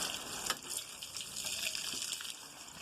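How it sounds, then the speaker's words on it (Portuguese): A garden is watered, a faint, continuous gush and splash of flowing water with small irregular spatters, heard up close and alone. "Já estamos quase terminando aqui de molhar."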